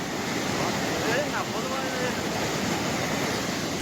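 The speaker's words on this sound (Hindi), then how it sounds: "पानी की रफ्तार तेज है, पानी की तेज धार में एक महिला पत्थर के ऊपर खड़ी है।" Fast-flowing floodwater torrent rushing around rocks where a woman stands, a steady loud broadband roar of water like heavy surf, continuous for several seconds with wind noise on the microphone.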